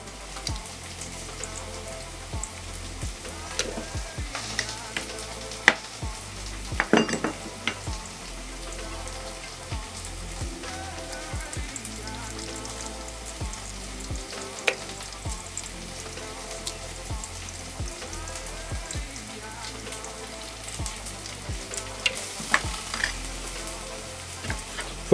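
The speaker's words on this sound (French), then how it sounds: "Faut pas oublier en même temps les oignons qui sont sur le feu, de penser à les remuer de temps en temps" Onions fry in a pan on the stove with a constant crackling sizzle, broken by occasional scraping clicks as they are stirred now and then, close and alone.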